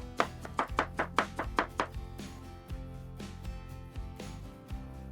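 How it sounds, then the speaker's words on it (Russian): Knife chopping a large peeled cucumber into strips on a cutting board, a quick run of about eight crisp, close taps followed by a few slower, softer cuts. "Огурец я также режу полосками"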